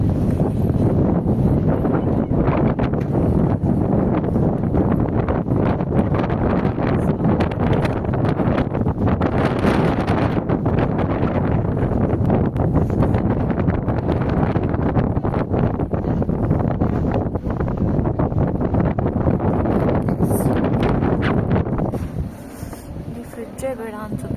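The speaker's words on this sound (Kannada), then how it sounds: "ನಿಮಗೆ ಗಾಳಿನ ಯಾವ ಥರ ಇದೆ ಅಂತ ತೋರಿಸ್ತೀನಿ ನೋಡಿ" Strong, steady wind roars continuously against the microphone in snowy Hell Valley, Hokkaido, loud and unbroken for most of the stretch before easing near the end.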